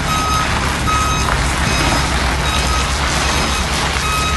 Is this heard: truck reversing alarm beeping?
yes